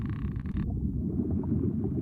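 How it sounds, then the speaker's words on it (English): Frogs croaking in the background of the cozy fishing game Cast n Chill, low repeated croaks under a soft ambient bed, faint and fairly distant. "You can hear some frogs in the background."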